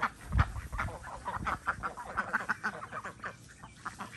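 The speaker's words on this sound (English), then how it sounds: "There's the ducks." Ducks kept on a cattle farm and swimming in a dog pool quack in a busy run of overlapping calls, fairly close and moderately loud, with no talking.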